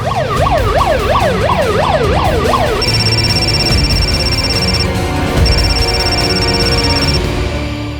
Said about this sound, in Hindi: मैं एम्बुलेंस लेकर जा रहा हूँ